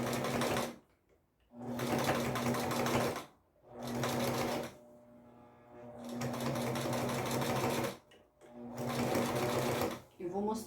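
Sewing machine stitching a baby quilt runs in several bursts of rapid, steady whirring separated by short pauses, close and moderately loud, with quiet talk in between.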